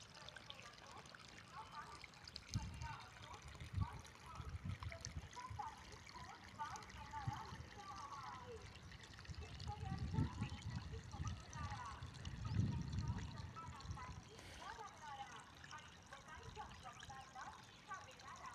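Irrigation water trickles and pours steadily along a furrow in a maize field, with low splashing surges and a faint murmur of voices in the background.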